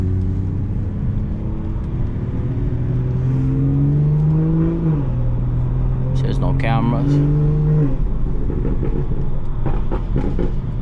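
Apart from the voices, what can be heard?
BMW 440i car engine revving while driving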